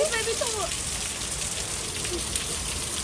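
Heavy rain pours steadily on a street near a bus stop in Mississauga, Canada, a dense, close hiss of drops that stays constant throughout, with a faint voice briefly audible at the start.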